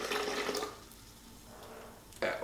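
Apple juice pours off from a jug while preparing homemade apple hooch, a steady liquid splash and trickle that eases to a thin trickle before a brief louder gush at the end.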